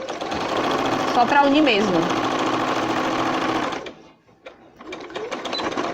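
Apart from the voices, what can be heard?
sewing machine stitching fabric pieces together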